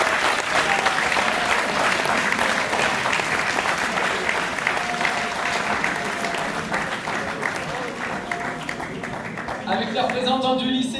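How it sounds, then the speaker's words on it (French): Audience in a lecture hall at the Normandy engineering sciences olympiad final applauding loudly and steadily for around ten seconds, with voices rising near the end. "On les applaudit bien fort."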